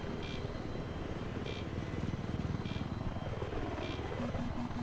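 A helicopter in the video game Battlefield 3 makes a continuous rhythmic rotor chop over a low engine drone, steady and fairly close, with brief higher game sounds recurring every second or so.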